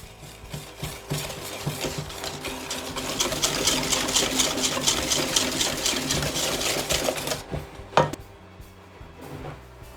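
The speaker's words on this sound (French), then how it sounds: "Je mélange et je blanchis l'ensemble." Whole eggs and caster sugar whisked together in a bowl for a vanilla flan pâtissier, a rapid rhythmic clatter of whisk against bowl that builds and holds steady, then stops with a single sharp knock.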